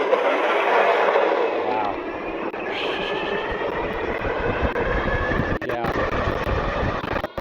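The dual hub motors of an all-wheel-drive Wired Freedom electric bike whine as its wheels spin up. A rising motor tone sits over a windy, rushing roar that stays loud and close throughout.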